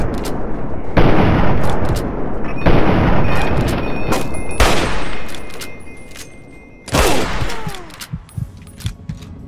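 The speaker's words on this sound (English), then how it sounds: "We traded shots." Gunfire exchange in Fallout 3: repeated loud bursts of shots and booming impacts, dense and overlapping for several seconds, then a pause before a final volley with sharp trailing cracks.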